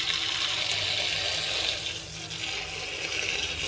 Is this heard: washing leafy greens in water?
yes